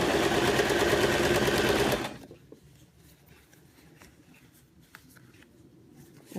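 Sewing machine stitching the hem of denim jeans, a fast steady mechanical whir loud and close for about two seconds, then stopping, leaving only faint handling noises.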